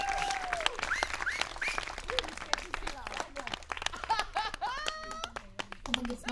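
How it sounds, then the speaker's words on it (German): Applause from a concert audience at an outdoor forest-arena show as night falls, dense clapping throughout with whistles and shouts rising over it and a few voices calling out nearby. "Einen großen Applaus"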